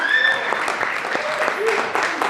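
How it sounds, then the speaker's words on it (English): Audience applause at a poetry slam festival final, a dense steady wash of clapping lasting the whole stretch, with a few faint voices and whistles mixed into the crowd noise. "You can applaud that."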